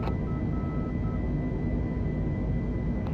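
Airbus airliner engines roar steadily at takeoff power on Singapore's runway 20 center, a dense, constant broadband rumble that holds at the same level throughout.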